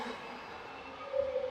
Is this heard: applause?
no